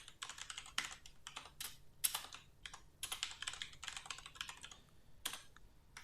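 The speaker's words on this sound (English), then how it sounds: "Let me type it because it's pretty long." Keys clatter on a computer keyboard as a channel name is typed, bursts of quick clicks separated by short pauses, close and fairly quiet, with no talking.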